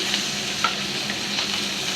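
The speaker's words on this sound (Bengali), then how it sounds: "মাছগুলো উল্টিয়ে দিলাম" Pangas fish turned over in hot oil in a frying pan, a loud, dense sizzle with a few soft knocks and crackles as the pieces shift, no speech.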